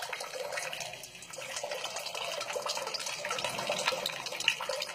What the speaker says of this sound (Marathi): आता हे पाणी पूर्ण संपल्यानंतरच, भांड रिकामं झाल्यानंतरच ही धार पाण्याची जी आहे ती थांबेल.